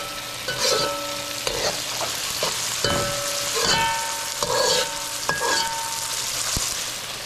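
Root vegetables sizzle and fry steadily in a pot, with a continuous loud crackling hiss broken by repeated scraping stirs of a utensil, and no talking.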